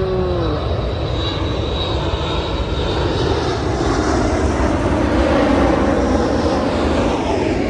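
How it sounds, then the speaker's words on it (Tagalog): A propeller airplane passes overhead near an airport on Vancouver Island, a loud, steady engine drone that swells slightly as it goes by. "Ayun, aeroplano. Ayan. Airplane."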